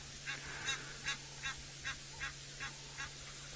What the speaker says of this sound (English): Nothing more ferocious than an Egyptian goose waddling after you and squawking as it goes